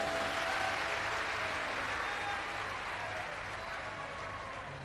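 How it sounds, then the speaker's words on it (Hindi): An audience at a Hindu Shiv Puran religious discourse claps in a dense, steady burst of applause that slowly fades toward the end, heard alone without talk. "एक बार जोरदार ताली बजाओ।"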